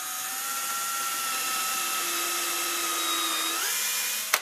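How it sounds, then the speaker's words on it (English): A power drill fitted with a combined pre-drill and countersink bit runs steadily through wood for a small candle holder, holding a continuous whine that shifts pitch near the end before cutting off. "I'm going to take my drill with a pre-drill and countersink bit"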